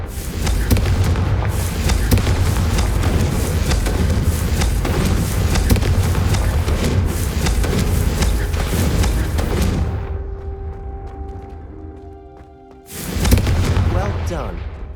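Confringo blasting spells fired at candelabras in Hogwarts Legacy produce a dense run of crackling bursts and booms, followed by a brief quieter gap and then one final loud burst.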